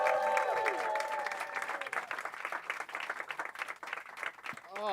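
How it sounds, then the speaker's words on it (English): A comedy club audience in Chicago claps and cheers loudly as a stand-up comic is introduced, dense applause swelling and thinning over several seconds with voices whooping through it. "Start clapping right now"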